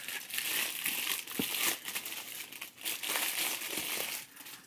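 Wrapping paper crinkles and crushes steadily while a figurine is unboxed, a close, continuous rustle with a few sharper crackles and no talking.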